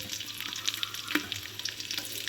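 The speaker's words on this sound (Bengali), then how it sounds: "এটা হালকা করে ভাজবো, হালকা করে নাড়বো" Cashews, raisins, whole spices and dried and green chillies frying in oil, giving a brief, faint crackling sizzle with a single light clink of a utensil.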